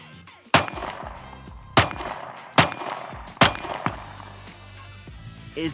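Four sharp pistol shots crack at roughly even intervals, followed by fainter clatter, from a Sig Sauer P365 X-Macro or Glock G43X compact carry handgun fired at a range.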